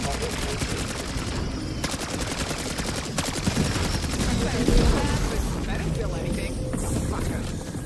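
Dense automatic gunfire in Call of Duty Black Ops, rapid bursts running throughout alongside a raised speaking voice and other game sounds.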